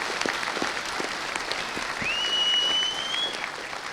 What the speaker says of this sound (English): So those applause are really for them.